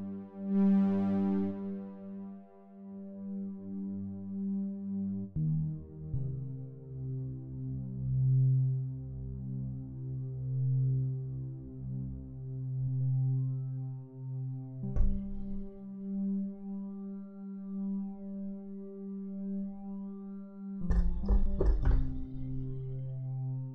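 Synthesizer build-up programmed in Bitwig: layered, sustained droning tones that swell and shift over time, with a few sharper hits cutting in near the end, steady and moderately loud with no talking.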